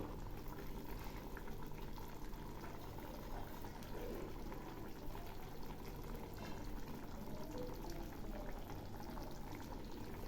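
Cauliflower korma bubbles steadily in a pan, a constant low, close simmer of thick gurgling with no pauses and no voice.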